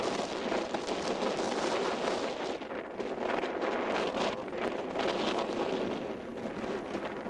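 Steady wind roaring across the microphone outdoors at the Columbia Gorge, a continuous broadband rush that stays loud and unbroken throughout.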